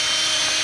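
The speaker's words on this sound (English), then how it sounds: "You shouldn't use drill bits to ream, but if you need to, then do it, okay?" A power drill spins a drill bit to ream out a hole while building a DIY boat sun shade, a loud continuous high-pitched whine held steady throughout a brief burst.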